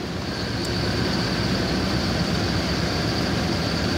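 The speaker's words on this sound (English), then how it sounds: "listen to that alternator because those batteries are low" A car alternator charging low batteries through a battery isolator hums as a steady, even mechanical whine with a faint high tone on top, constant and fairly loud with no talk over it.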